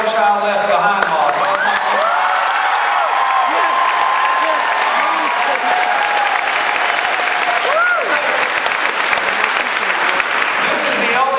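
A large political rally crowd applauds and cheers loudly and continuously after an education pledge, with a dense roar of clapping and voices mixed in.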